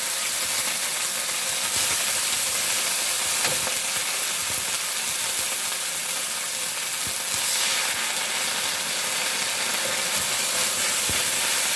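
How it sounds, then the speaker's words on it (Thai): Water spinach stir-fried with garlic over high heat, giving a loud, continuous sizzle and hiss with occasional faint scrapes, no voices. "บุ้งนะคะใส่ไปเลยค่ะไฟต้องแรงนะคะทุกคน"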